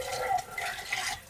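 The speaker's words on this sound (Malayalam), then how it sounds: "ഇതൊന്ന് കഴുകിയെടുക്കണം." A vegetable chopper is washed in water, giving soft, faint splashing and trickling sounds with light drips.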